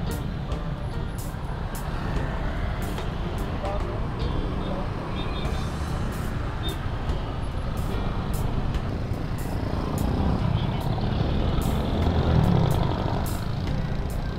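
Heavy traffic of cars and trucks on a rainy road in Bulacan, heard from a motorcycle as a steady, loud rumble of engines and tires with wind noise throughout and a swell of passing vehicles near the end.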